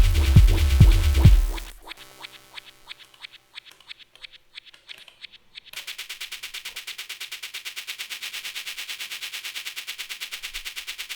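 Rapid, steady sixteenth-note shaker hits from a Digitakt drum machine, bright and hissy, playing alone in a tight mechanical rhythm after a brief bassy opening.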